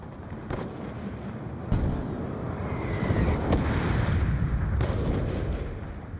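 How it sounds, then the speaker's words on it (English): A missile strike in Black Ops 2 online multiplayer lands as a heavy boom, followed by sustained rumbling blasts and gunfire-like thuds, loud and close throughout. "Missile inbound."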